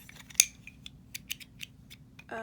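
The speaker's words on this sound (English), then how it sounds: "I'm using my little yarn snippers." Small yarn snippers make a series of short, crisp snips while cutting yarn for a crochet project, about eight quick clicks spaced irregularly, close and clear with no talking.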